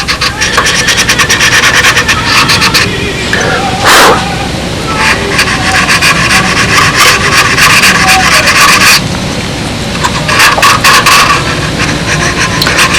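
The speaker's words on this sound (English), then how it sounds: "I always like to get a final sanding on this in here" Steady rasping strokes of hand sanding on a balsa wood model Spitfire fuselage, continuous and close, with brief pauses between passes.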